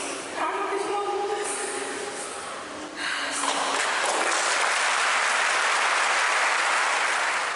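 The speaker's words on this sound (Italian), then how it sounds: "Un lungo applauso ha accolto il feretro di Annalisa all'uscita della chiesa" Sustained applause from a crowd outside a church as a coffin is carried out after a funeral, starting mixed with murmuring and swelling into a dense, steady wash of clapping.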